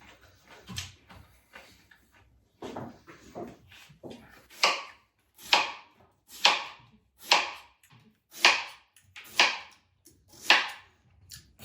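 A knife slices through fennel bulb on a cutting board, steady rhythmic chops growing louder and crisper, about eight firm cuts in a row after quieter early strokes, close and alone without talk.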